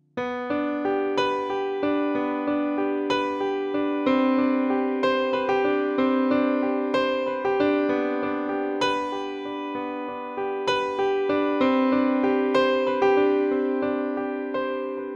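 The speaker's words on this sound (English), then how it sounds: "I want to show you this little transition piece that Chris played during the MX tour." A gentle solo piano transition passage from live performances, with a steady flow of arpeggiated notes, sustained and continuous throughout, played alone with no voices.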